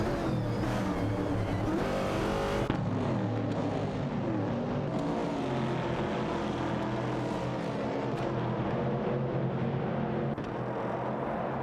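Race cars lapping a track in a video game racing simulation, a Ford Falcon among them, engines droning loud and continuous with shifting pitch and a brief change as the field passes.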